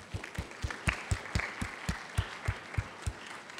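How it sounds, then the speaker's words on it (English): A short round of applause from an audience at closing remarks, with fairly sparse, rhythmic claps from a modest group, steady and moderately close without voices. "let's give him a round of applause"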